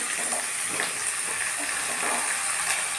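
Papaya frying in a pan, a steady hiss and sizzle of oil that holds at an even level and sounds fairly close.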